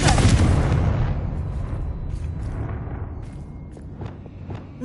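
A Confringo blasting spell from Hogwarts Legacy, a video game: a loud booming explosion that trails off into a long rumbling decay, with a few sharp crackles and pops fading out afterward.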